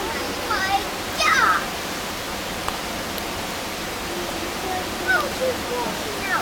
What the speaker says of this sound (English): Now we're turning into a river. This is overflowing.